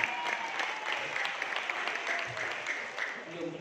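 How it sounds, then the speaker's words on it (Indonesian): An indoor audience at a training seminar claps steadily and continuously, a dense moderate patter of many hands. "Aplaus untuk istri saya."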